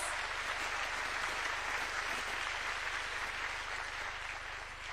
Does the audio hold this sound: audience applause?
yes